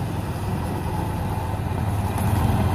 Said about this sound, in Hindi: आज 50-50 ई ट्रैक्टर की वीडियो लेकर आए हैं और 8 फीट का लैंड फोर्स का रोटावेटर है।